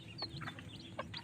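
Soft, close clucks and short peeping calls from a hen and her chicks in a backyard pen, a few scattered bursts over a low farmyard murmur.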